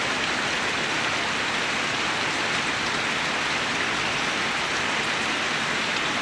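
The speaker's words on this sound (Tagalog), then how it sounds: "Puro na lang ulan." Dense, unbroken downpour roaring evenly throughout, a thick wash of raindrops drumming on surfaces nearby.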